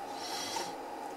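Chaotic audio output from an NE555 timer driving a binary counter, taken from the counter's highest output on pin 3, gives a steady raspy buzzing noise, loud and continuous throughout, with no voices.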